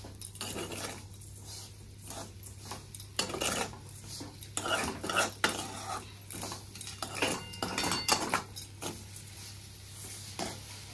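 Semolina and sugar being mixed in a pan for a mango shira, with a spoon scraping and clinking against the metal in repeated irregular strokes at close range over a steady low hum, no voices.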